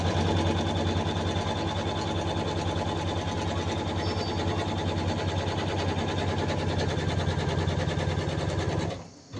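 A sewing machine runs steadily with bobbin thread while stitching a gold design, giving a fast, even mechanical whir and rapid needle chatter close by, stopping abruptly at the end.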